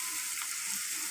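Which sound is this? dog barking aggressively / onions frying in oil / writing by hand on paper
onions frying in oil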